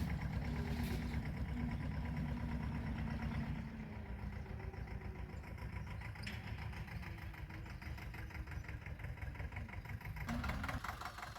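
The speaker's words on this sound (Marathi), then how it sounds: "आता ट्रॅक्टर चालू झाला आहे" A tractor engine idles with a steady, low, chugging rumble throughout, close and continuous, with a slight shift in tone partway through, before maize sowing on a farm.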